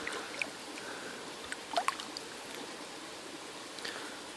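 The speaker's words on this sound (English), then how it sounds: "wash off this rhizome." A hop rhizome is rinsed in a creek: steady running water with a few faint splashes and trickles, soft and close.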